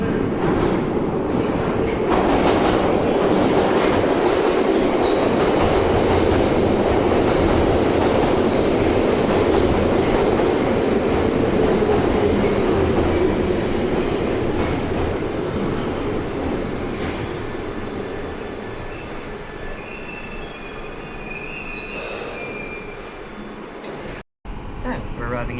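A London Underground Piccadilly line train bound for Heathrow arriving at a station, a loud rumbling roar of wheels and carriages that slowly fades as it slows, with a station announcement voice over it.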